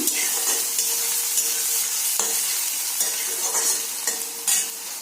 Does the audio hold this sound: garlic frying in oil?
yes